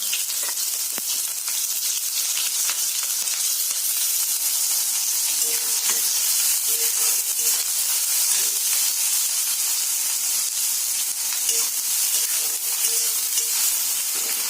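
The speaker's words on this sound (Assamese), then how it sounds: "তেলখিনি গৰম হৈছে, মই পিঁয়াজখিনি দি দিলোঁ।" Constant, close hissing sizzle of onions frying in hot oil in a wok, steady and bright with faint crackles, no voices.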